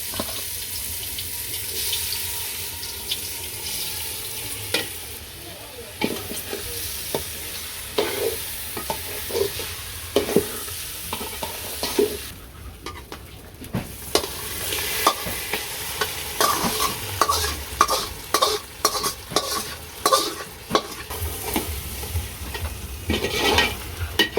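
Rice sizzling in hot oil in a village cooking pot, stirred steadily with scraping strokes and rattling grains, a continuous close frying hiss that grows busier toward the end.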